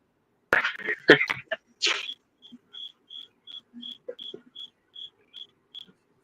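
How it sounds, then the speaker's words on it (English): Regular short cricket chirps repeat steadily, about two per second, clear and fairly close, following a few sharp knocks and rustles at the start. "I hear crickets over at your house."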